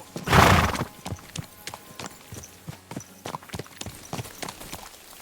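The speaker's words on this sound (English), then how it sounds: "Is this your first time riding a horse?" Horse hooves clip-clop steadily at a walking pace while riding in Kingdom Come Deliverance II, opening with a loud whinny before the close, even hoofbeats continue alone.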